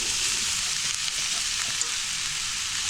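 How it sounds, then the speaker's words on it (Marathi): Chopped vegetables and boiled potato fry in a pan with a dense, steady sizzle, close and fairly loud, continuing evenly without pause. "आता आपल्या भाज्या मस्त फ्राय झालेल्या आहेत"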